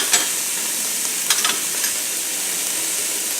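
Cabbage squares frying in a hot pan over a moderately high flame, giving a constant bright hiss and sizzle with a few brief crackles and a clatter of pieces landing.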